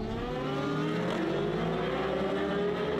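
A road racing motorcycle at the Southern 100 on the Isle of Man screams past loud and close, its high engine note sustained and shifting pitch as it goes by, with no voices.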